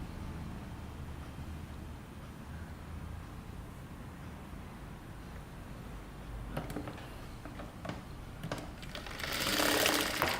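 Sewing machine stitching a kurta shoulder seam, running steadily at low volume through most of the stretch, with a few clicks and handling noises near the end before a louder burst of fabric or machine noise.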